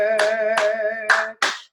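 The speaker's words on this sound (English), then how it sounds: "sing together with a little fancy clapping" During a church service song, four sharp, fairly loud hand claps land in a steady rhythm over a sustained sung or instrumental tone.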